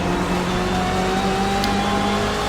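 Onboard engine of a GTE race car in a racing video game, a loud steady high-revving drone with sustained engine tones throughout the short moment, no other sounds.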